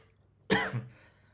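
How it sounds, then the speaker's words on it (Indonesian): One short, fairly quiet cough, a harsh burst with a brief throaty tail, in an otherwise quiet room. "Saya agak batuk ini."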